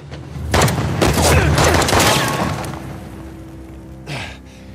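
Gunfire erupts in a combat scene from the video game Uncharted: The Lost Legacy, a loud burst of several close shots and booms over about two seconds, fading to quiet before a brief later blast.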